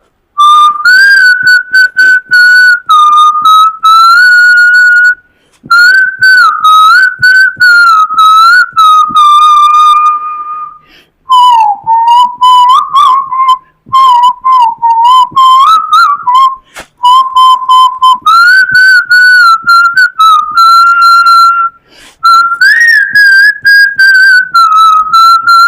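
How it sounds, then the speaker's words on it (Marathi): A person whistles a song in clear, loud melodic phrases with short pauses between them, close up and alone without any talk. "मी शिट्टीतून गाणं म्हणून दाखवणार."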